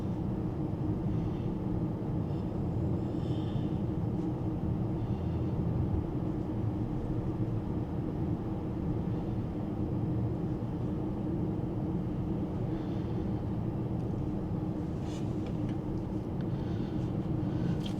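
Inside a ZEEKR 7X on a road in Sydney, a steady low rumble of road and tyre noise fills the cabin, even and continuous, with faint intermittent clicks and rattles.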